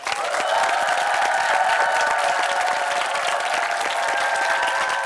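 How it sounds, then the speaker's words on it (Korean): A television studio audience applauds steadily, a dense wash of many hands clapping at a constant level throughout, with faint cheering mixed in. "여러분 큰 박수 부탁드리겠습니다"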